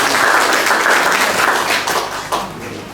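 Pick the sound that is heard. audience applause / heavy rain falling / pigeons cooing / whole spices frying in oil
audience applause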